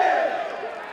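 A Purdue home crowd at a college baseball game against Northwestern roars together in one sustained swell of cheering that slowly fades over a second.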